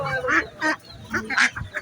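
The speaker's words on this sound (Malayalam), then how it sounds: "ഇത് കണ്ടില്ലേ, അടിപൊളി താറാവുകൾ." Several ducks at a poultry market give short nasal honking quacks in quick bursts, fairly close and loud against a quiet background.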